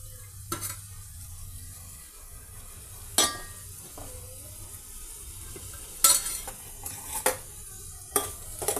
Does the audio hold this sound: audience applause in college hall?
no